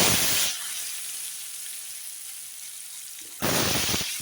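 Eggplant slices sizzle and fry in hot oil for a Bengali begun bahar dish, a steady close hiss with louder bursts of spattering at the start and again near the end as pieces go in.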